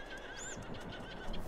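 Horses neighing in a stable in Farming Simulator 22, a single whinny with a faint clip-clop of hooves behind, fairly quiet and close.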